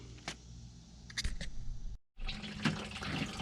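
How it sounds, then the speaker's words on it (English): Fuel drains from the gas tank of a Fox Mustang, a steady trickling, splashing flow that briefly cuts out and then resumes, with a few sharper drips and knocks, close and fairly quiet. "So I'm just draining whatever's left in the tank now."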